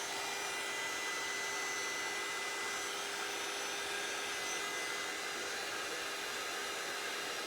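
A craft heat tool blows hot air in a continuous steady whir, loud and close, holding an even hiss from start to finish with no talking.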